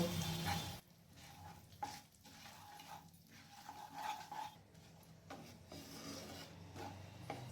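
Cloves, cinnamon, cardamom and cumin seeds fry briefly in oil, giving a soft, rough sizzle with rasping stirring strokes that rise and fall unevenly, quiet and without speech.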